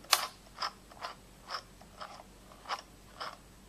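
Singer Handy Stitch handheld sewing machine making stitches, a series of about eight quiet mechanical clicks spaced roughly half a second apart, close and alone.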